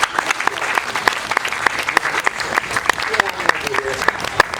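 Crowd at a festival gathering applauding steadily, dense clapping with a few sharper claps standing out and faint voices underneath.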